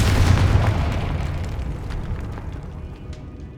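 The Confringo fire spell explodes in the Hogwarts Legacy video game, a single close, heavy boom with crackling debris that fades over about three seconds.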